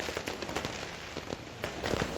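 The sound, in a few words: heavy rain and fireworks on New Year's Eve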